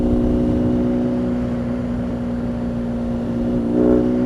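BMW R nineT motorcycle engine running with a steady, droning hum and a slight throttle swell near the end, close and continuous.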